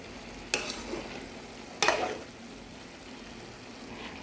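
Picadillo cooking in a pan, with two distinct stirring scrapes standing out over a quiet, low background sizzle.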